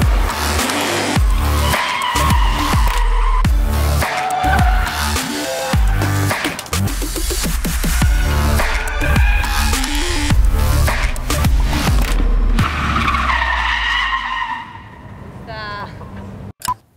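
A rear-wheel-drive Hyundai Equus drifting around a chalk-marked 180-degree curve at the Buenos Aires racetrack, its tires squealing in repeated wavering bursts over engine noise, with people talking over it.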